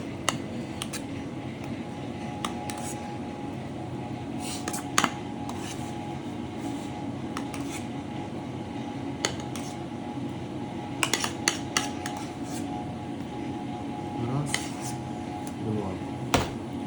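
Two ceramic plates being picked up and set down in a kitchen while plating pork with truffle mash, giving scattered light clinks and scrapes over a steady low background hum, fairly quiet and without talk.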